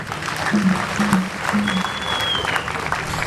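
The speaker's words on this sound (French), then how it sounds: "Applaudissez pour vous-même." Church assembly audience clapping for themselves, lively applause with some voices and a few whoops mixed in, fairly close and full throughout.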